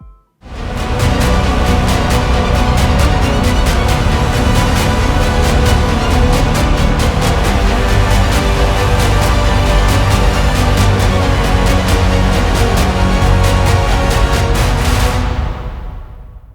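Dense, loud orchestral music plays continuously, full and layered with strings and percussion, then cuts off abruptly at the end.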